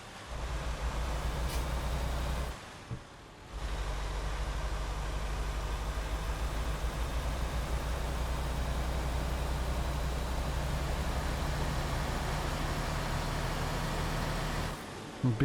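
A truck engine in American Truck Simulator drones with a steady, loud low rumble that cuts out briefly twice, near and continuous with no talk.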